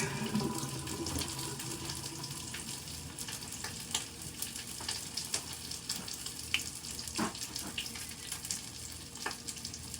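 Tap water runs during dishwashing, a steady hissing stream with scattered clinks and knocks of dishes, fairly close and with no speech.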